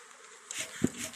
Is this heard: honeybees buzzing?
yes